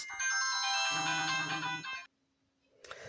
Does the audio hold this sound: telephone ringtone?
yes